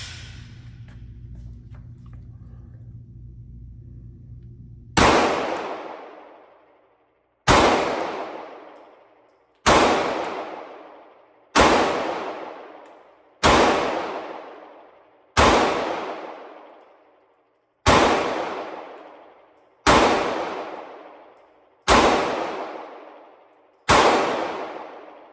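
A Walther PDP compact pistol fires ten loud, evenly spaced shots at a target, each crack ringing out and decaying before the next, after a quiet stretch of low background hum.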